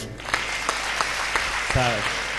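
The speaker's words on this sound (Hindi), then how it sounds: "जरा एक बार ताली बजाइए।" Audience applause at a Hindi comic poetry gathering (hasya kavi sammelan), a steady wash of clapping through the clip with a brief voice cutting in near the end.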